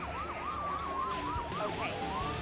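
An ambulance siren from the video game Emergency HQ wails in a fast, repeating up-and-down yelp, steady and fairly loud over a low background hum, with no talking over it.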